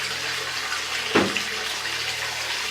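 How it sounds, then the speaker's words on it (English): A big bath bomb drops into a filled bath with one short splash and plop, heard over a steady background of running water, with no talk. "And I will pop this in the bath. It's a big bath bomb as well."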